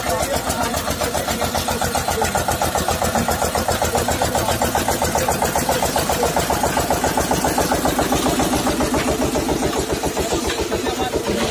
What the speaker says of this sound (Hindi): और फिर वो पावर वाला इंजन है 25 HP का।